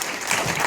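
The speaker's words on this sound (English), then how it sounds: "Round of applause for our panelists." Audience applauding panelists at a blockchain conference in Chicago, a brief burst of steady clapping filling the room.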